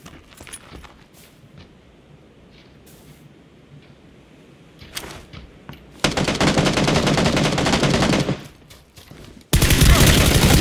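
Bursts of automatic gunfire in PUBG, loud and close, a sustained rapid volley lasting about two seconds, then another burst cutting in after a short pause, with scattered single shots and faint voices earlier.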